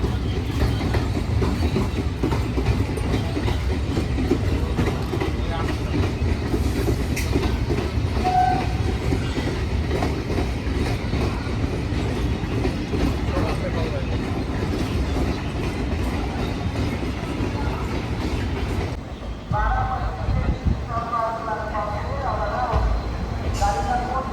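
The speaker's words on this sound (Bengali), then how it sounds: "তো অবশেষে আমাদের ট্রেন নির্ধারিত সময় থেকে কিছুটা লেটে ঢুকলো" The Dhanadhanya Express rumbles steadily into Naihati station with continuous wheel and carriage clatter, and voices near the end as it slows.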